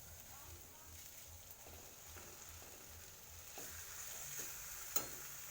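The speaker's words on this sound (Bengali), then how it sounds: "এবার যেটা করব সেটাই মাছের তেলটাকে আমি অ্যাড করব" Fish oil goes into a frying pan and sizzles quietly, a low steady frying hiss with occasional scraping stirs and a sharp tap near the end, while a person talks over it.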